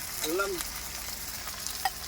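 Ginger-garlic masala roasting in a pan while cooking in a lorry, a steady close sizzle and crackle with a few light clicks of stirring, no talking.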